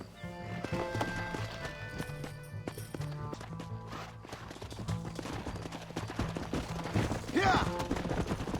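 Rhythmic horse hooves clip-clop at a gallop amid game music in Red Dead Redemption, with a neigh and scattered gunshot-like bangs toward the end.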